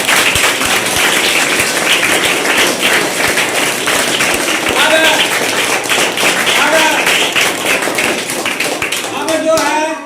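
Schoolchildren clap hard and steadily at a farewell ceremony during a school assembly, a loud continuous rattle of many hands with voices audible over it.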